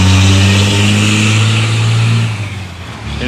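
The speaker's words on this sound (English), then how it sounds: "Waiting for that noisy truck to go by." A noisy truck passes on a street in Regina's Warehouse District: a loud, steady engine roar that holds close for a few seconds, then begins to fade.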